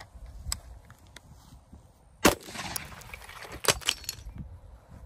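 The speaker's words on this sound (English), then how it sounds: "We'll take a shot at this plate and see what happens." An AR-15 fired a single round at a homemade body armor plate outdoors, one sharp crack in the middle followed by a few lighter impacts and rustles, with quieter handling noises before and after.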